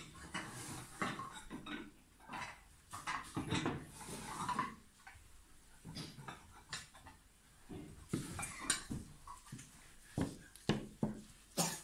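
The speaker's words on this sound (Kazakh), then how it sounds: "Достар, біз қазір тәрелкелерді қойып шығамыз" Plates are set out on a table for an iftar meal, with repeated ceramic clinks and taps of dishes and cutlery in irregular clusters, close and fairly quiet.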